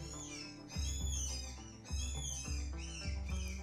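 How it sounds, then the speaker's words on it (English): Seagulls in the video game Rimworld call in repeated mewing, whistle-like cries with a gentle rhythm over a low background tone, fairly soft and without voices. "Are you hearing these seagulls?"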